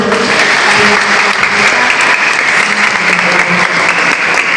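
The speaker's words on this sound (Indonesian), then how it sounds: "Kita tepuk tangan dulu" A church congregation applauds steadily, with loud, dense clapping from many hands that holds for several seconds without a break.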